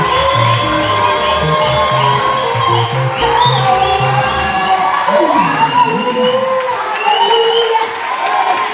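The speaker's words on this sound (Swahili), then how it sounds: "Tunataka kupatia Bwana sadaka ya makofi." A church congregation at a pastor's ordination in Kenya cheers, whoops and claps together, a dense, loud crowd roar with shouts and children's voices rising over it throughout.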